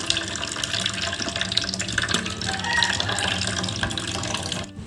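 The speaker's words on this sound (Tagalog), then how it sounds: "Drain ko muna yung tubig ng ating fruit cocktail." Liquid from canned fruit cocktail draining out in a steady, close, continuous splashing pour that stops abruptly at the end.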